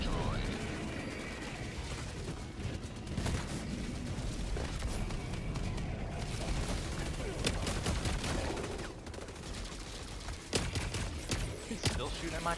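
Gunfire in the video game Helldivers 2, with dense, continuous shooting and rattling bursts amid a loud battle din, closer sharp shots standing out near the end, with talk mixed in.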